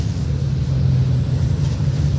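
A DAF racing truck runs on the Pembrey circuit, its engine producing a steady, loud low drone with a constant hum and no break or talk over it.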